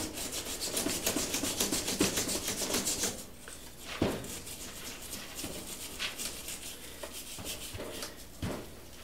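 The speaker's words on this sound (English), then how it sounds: "back to scrubbing on this. I'm using a steel wool or steel bristle brush." A steel bristle brush scrubs a part from a Stanadyne Roosamaster DBG diesel injection pump in fast, steady rubbing strokes for about three seconds, then turns to quieter, scattered scraping and a few sharper knocks.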